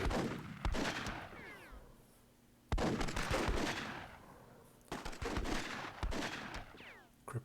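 Grenade blasts and gunfire in the strategy game Myth II Soulblighter, a WWII tournament match: three loud, sharp explosive bursts a few seconds apart, each trailing into crackling debris and rattling shots.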